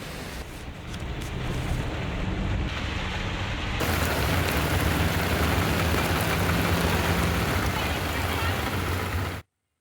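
Heavy monsoon rain pours steadily in a dense, loud hiss with no break, growing slightly stronger partway through before cutting off abruptly at the end.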